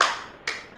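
A classroom clap during an online social studies seminar for primary seven candidates: two quick bursts of hand clapping, one at the start and another about halfway through, fairly close and moderately loud.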